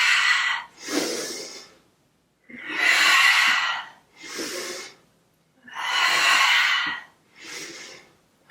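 Forceful cleansing breaths in a yoga class: six loud, rushing breaths, each inhale and exhale about a second long, separated by short silent pauses and heard close up, with no speech.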